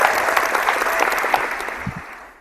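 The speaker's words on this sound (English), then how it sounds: "my hand clap" A brisk burst of clapping with a full, crowd-like density, loud at first and then fading out toward the end of a couple of seconds, with no voices over it.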